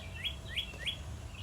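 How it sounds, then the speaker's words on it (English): Early-morning birds chirp outdoors, three quick, bright upward tweets in even rhythm, faint over a soft background hush. "Can you hear all these birds?"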